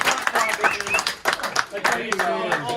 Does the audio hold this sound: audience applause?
yes